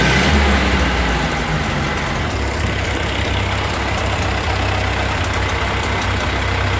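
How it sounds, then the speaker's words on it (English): A Ford 8N tractor engine revved to high speed, a loud, steady low rumble holding at raised revs throughout with no pauses or talk. "So now let's rev her up and set the high speed."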